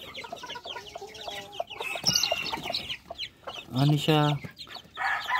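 A claret chicken clucks and squawks close by in a farmyard, giving bursts of clucking broken by short pauses and a louder squawk near the middle, while a person speaks briefly.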